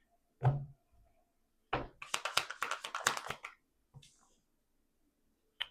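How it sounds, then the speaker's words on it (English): An indoor door shuts with one sharp, close thud, followed by a second knock and a brief run of clattering taps, then quiet with a faint final click. "I just heard a door close."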